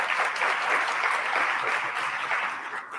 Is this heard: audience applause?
yes